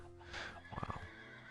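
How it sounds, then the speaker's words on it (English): A horse whinnies in the Minecraft video game, one short rising-and-falling neigh at moderate volume, quiet otherwise with no talking. "we have a lot of horses spawning"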